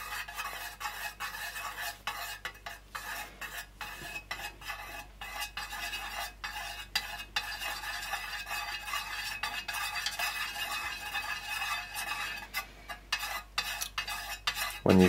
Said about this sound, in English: So just stir that in.